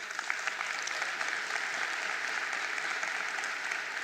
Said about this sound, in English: A round of applause for Owe too.